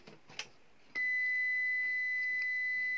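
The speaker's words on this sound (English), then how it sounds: "The UPS continuously beeps and it's giving off an F04 error code." After a faint click, a loud continuous electronic beep from a ProLink UPS showing an F04 error starts and holds at one pitch without pause, a shrill single tone.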